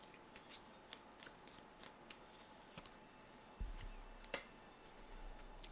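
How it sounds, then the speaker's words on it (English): A deck of tarot cards being shuffled by hand, soft papery riffles and flicks sounding in scattered quick bursts at close range, with a low bump partway through. "Give it a good shuffle."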